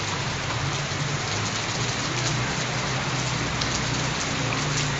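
Steady rain falls on a warm, rainy May day along Sukhumvit Soi 42/1, a dense, even hiss of drops on surfaces that runs unbroken and fairly close throughout, with no voices.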